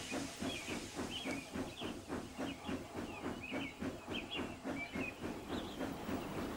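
A steam engine puffs along in a steady, rapid chuff rhythm under a continuous hiss, with brief chirping whistle-like squeals repeating over it, moderately loud and even throughout.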